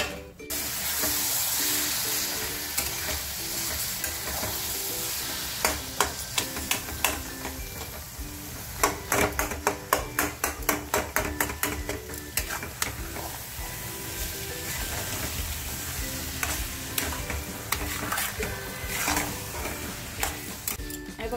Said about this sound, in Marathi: चांगलं फ्राय करून घ्यायचं जोपर्यंत ते घट्ट होते तोपर्यंत